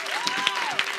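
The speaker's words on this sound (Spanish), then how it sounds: "¡aplauso muy fuerte ahora mismo!" Loud studio audience applause rings out on a Spanish entertainment show as votes go to El Cejas. Dense clapping fills the short stretch, with a sustained wavering tone running over it.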